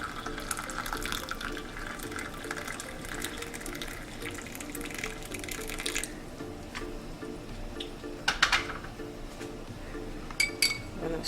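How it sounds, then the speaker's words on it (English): Boiled hot water poured into a cup with cinnamon, a steady close trickling splash with light clinks of glass or ceramic, a few sharper knocks near the end. "I have hot water here which I have boiled, so I'm going to add hot water to it."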